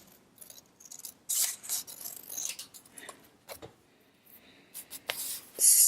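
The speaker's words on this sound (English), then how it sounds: "I'm going to take the scissors instead and work a bit more on blending in that bottle here" Scissors snipping paper for a mixed media journal page, close and quiet, in short irregular bursts of crisp cuts with pauses between, no talking.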